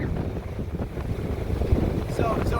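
Strong tropical storm wind on a Dauphin Island beach roars steadily against the microphone with low buffeting rumble, constant and close, without a break.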